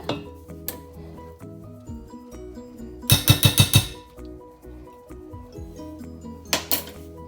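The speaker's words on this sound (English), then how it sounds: "I'm going to add the peanut butter and give it a good old stir" Peanut butter being stirred into melted sugar in a pot for peanut satay sauce, a spoon clinking and scraping against the pot in a quick burst of knocks, then a brief clatter near the end, with no talk.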